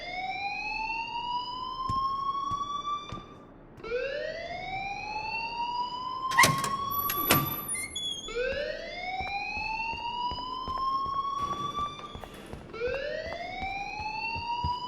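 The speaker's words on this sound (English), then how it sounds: "please turn off that alarm since that's your job" A fire alarm in the video game Life is Strange sounds in repeated rising electronic whoops, each about two seconds long, steady and fairly loud, with a couple of sharp clattering noises partway through.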